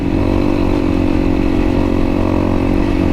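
A single-cylinder motorbike thumper drones steadily and loud at close range, a constant mid-pitched engine note holding without any change in revs.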